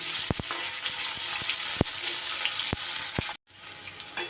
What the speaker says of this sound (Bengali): ফুলকপি আমার সুন্দর করে ভাজা হয়ে গেছে বন্ধুরা।